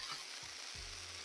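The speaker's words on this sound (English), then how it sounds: "let's get that frying up." Diced potatoes sizzle and crackle as they fry on a hot Blackstone griddle, with a couple of soft low thumps from shifting food.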